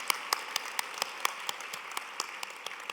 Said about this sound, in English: yes, please, let's give her an applause.